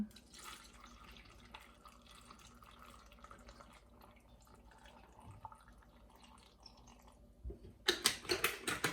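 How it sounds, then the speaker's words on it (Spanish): Water is poured into a blender in a home kitchen for a recipe, a faint trickle at first, then a louder burst of splashing near the end. "Añadimos agua."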